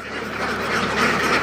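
Ducks quack at night where a young boy's flock sleeps under netting, a steady chorus of nasal calls layered over continuous noise throughout.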